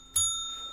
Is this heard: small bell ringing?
yes